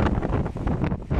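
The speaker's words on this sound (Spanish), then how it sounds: "Pero sí estaba fuertísimo el viento y empezó a lloviznar." Strong gusting wind buffeting the microphone outdoors in Nogales, Sonora, heavy low rumbling bursts that rise and fall in quick pulses over a brief stretch, with no talking.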